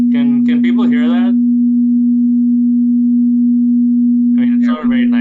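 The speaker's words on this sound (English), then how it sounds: "So that's a sine wave." A steady pure sine-wave tone played during an online math lecture hums continuously at one pitch, loud and unchanging, with people talking over its start and end.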